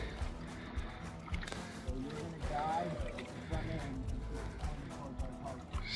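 A small boat being launched onto a river from a gravel bar, with water sloshing and hull knocks under steady outdoor chatter, continuous and moderately near.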